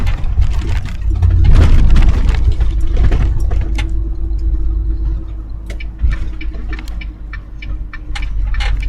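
Heavy truck engine running in 10th gear on a highway drive from Edmonton toward Blue River, a steady low drone with broadband road rumble and scattered ticks and clicks, no speech.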